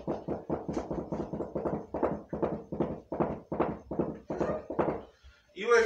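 Rhythmic hollow thuds in a rapid galloping pattern, cups struck on a floor rug to imitate a horse running, ending with a brief rustle.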